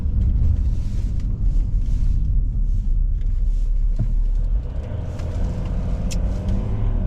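A car engine idles on a 22-degree cold morning, giving a steady, loud, close low rumble that continues throughout with slight shifts, heard without talk.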